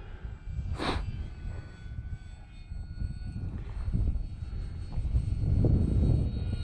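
Arrows RC Bigfoot model airplane flying nearby, a steady mid-loud engine drone that swells and fades slightly as it passes, with a brief sharp whine early on and no talk.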